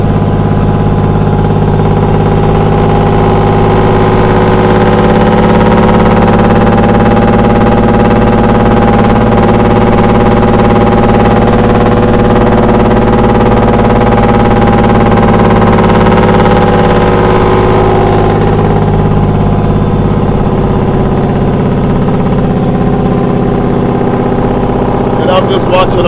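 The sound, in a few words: truck engine driving down a mountain at night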